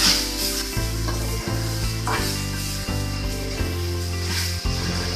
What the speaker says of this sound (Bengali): চিনিটা দিয়ে দিচ্ছি নেড়ে দিচ্ছি